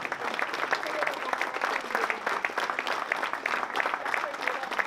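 Guests at a charity dinner at St Privat in 2021 applaud a cheque presentation for children, producing a continuous roomful of clapping with some voices faintly mixed in.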